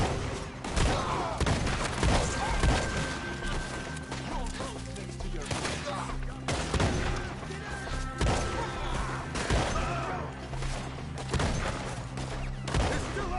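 Gunfire at enemies hiding up in trees in Red Dead Redemption 2, repeated heavy shots and impacts at irregular intervals over a loud, busy game soundtrack, with voices shouting at times.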